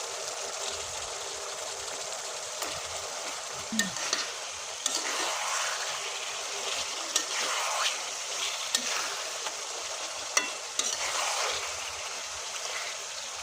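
Rohu fish pieces hit a pan of spiced onion-tomato masala and set off a steady, moderately loud sizzle. Occasional clinks and scrapes of stirring break through the frying, and there is no talking.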